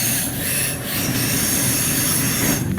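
A German DB BR612 diesel multiple unit in Train Sim World 2 rolls steadily on the Tharandter Rampe, with continuous loud wheel squeal and rail rumble and no voices.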